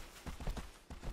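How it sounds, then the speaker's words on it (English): Horse hooves in Shadow of the Colossus, a quick run of soft rhythmic clip-clop beats at a trotting pace, close and moderately loud. "There's somewhere you have to get your horse into the mix."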